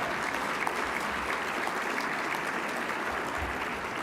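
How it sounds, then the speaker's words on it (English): An awards-show audience gives a sustained round of applause, a thick, even roar of many hands clapping in a large room, steady throughout with no one speaking over it. "Give him a big round of applause."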